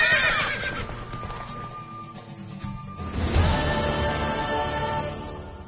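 A horse in The Witcher 3 gives a loud, close whinny that trails off, followed by a second neigh that rises and sustains, with no talk over it.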